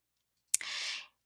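A single sharp computer mouse click on a Chromebook, near and fairly loud, followed by a short soft hiss that fades within half a second, with silence around it.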